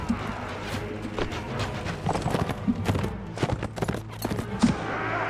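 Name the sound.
horse hooves clip-clopping in the video game Warsword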